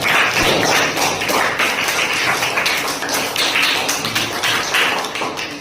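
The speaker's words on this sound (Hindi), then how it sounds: "तो एक बार जोरदार ताली बजाया।" A studio audience claps loudly and steadily after a coconut magic trick at a science magic show. The dense applause runs unbroken for several seconds.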